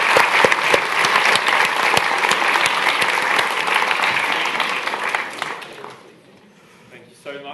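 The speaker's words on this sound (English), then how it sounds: "So please join me in giving a round of applause to the panelists." An audience at a tech festival applauds the panelists of an AI ethics panel, dense sustained clapping that fades out near the end, with voices audible afterward.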